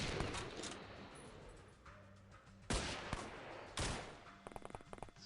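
M16 rifle gunfire in the video game The Xcom Files, with rapid crackling shots and a couple of sharp louder bursts over a busy, noisy background, ending in quicker staccato pops.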